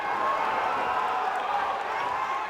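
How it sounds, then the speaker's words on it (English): Murmuring, mildly cheering crowd of soldiers around the ring at a military combatives MMA bout, a steady mid-level wash of voices and noise with no distinct claps standing out. "that crowd around the ring right now starts to get into this just a little bit"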